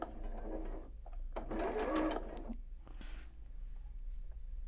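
Sewing machine stitching a quarter-inch seam on fabric, a soft, quick whirring run with a louder burst in the middle, then fading to a faint hum, fairly quiet and up close with no talk.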